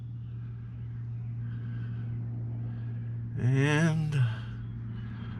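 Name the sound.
truck engine running with AC on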